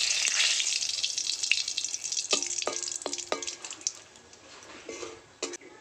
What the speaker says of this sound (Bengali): এবার ফোড়নে দিয়ে দেবো কটা গোটা জিরে, 3টে তেজপাতা ছোট ছোট